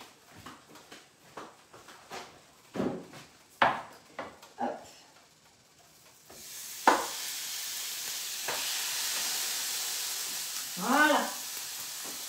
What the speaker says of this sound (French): je vais aller mettre ma côte de bœuf sur l'autre